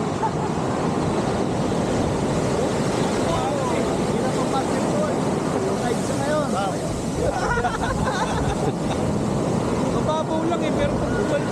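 Ocean waves wash continuously onto the shore at Dingalan beach, a steady broadband surf roar with some wind buffeting, while voices and crowd babble carry underneath throughout.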